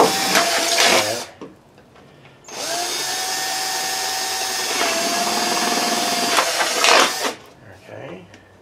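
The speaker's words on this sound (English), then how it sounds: "Three more to drill." A power drill whines in two bursts while drilling holes in a plastic Jason Voorhees mask, a short one followed by a longer sustained run, close and loud, with quiet pauses between.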